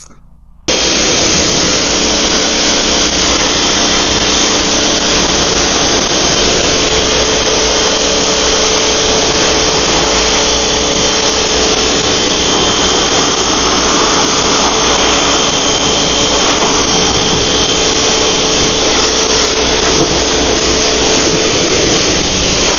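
A pressure washer sprays water steadily over a car to rinse bugs off its surface, a loud, continuous hissing roar that starts abruptly and holds unbroken throughout.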